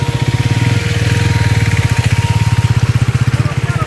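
A KTM RC 390 motorcycle engine runs off-road in a Punjab forest, a loud, close, steady thumping putter with a rapid even pulse that holds throughout without speech.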